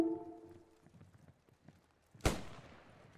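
In the Post Scriptum battlefield game, a single sharp gunshot cracks out near a church, preceded by a faint hum and quiet shuffling.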